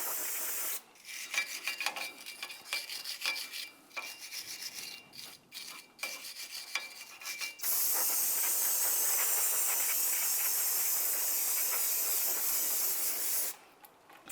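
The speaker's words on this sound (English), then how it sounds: "Use some parts cleaner and a wire brush and clean it up." Parts cleaner sprayed from an aerosol can onto the wheel bearing hub surface of a 1998-2002 Lincoln Navigator during a front brake job, first as short bursts with scrubbing, then one long steady close hiss of about six seconds.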